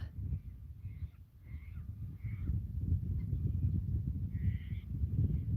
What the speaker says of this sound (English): Can you hear all the birds? There's so many birds.